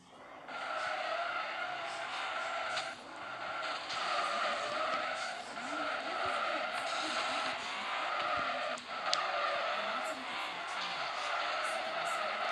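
Car tires squealing in a sustained, continuous skid, loud and steady for the whole stretch with small dips, racing-game style, with no one talking over it.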